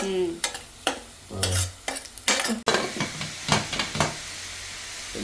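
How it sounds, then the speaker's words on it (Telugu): Prawns frying in a pan in a home kitchen, with bursts of sizzling and hissing, spatula stirring and scraping, and utensils clinking against the pan, heard close up. "ఆల్రెడీ మూకిట్లో రొయ్యలు ఏగుతున్నాయి"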